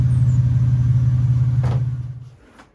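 A vehicle engine fitted with a Borla muffler idling after being driven, a loud, steady low rumble that cuts off near the end and fades into quiet.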